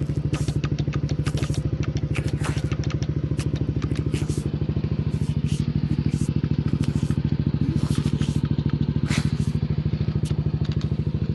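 A Yamaha NMAX V2.1 scooter engine runs at a steady idle, a close, continuous putter with faint clicks and rattles over it.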